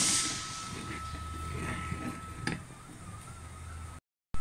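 A pot of coconut-based mackerel curry comes to a boil, giving a steady hissing, bubbling simmer with a few soft pops and ticks, close and quiet, with no talking.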